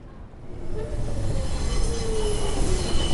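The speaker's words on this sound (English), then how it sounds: "The train glided up to the platform." A train pulls up to a platform in the video game 428: Shibuya Scramble, its rumble growing nearer as the wheels squeal steadily against the rails.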